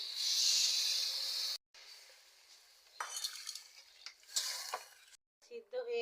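Water poured into vegetables frying in a pan with ground mustard paste and salt, for a Bengali sour vegetable dish: a loud steady sizzle, a brief break, then scraping and stirring clinks with bursts of sizzling.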